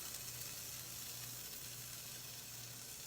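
Egg frying over easy in a pan on a flame set far too high, a soft steady sizzle and hiss, faint and continuous with no talk.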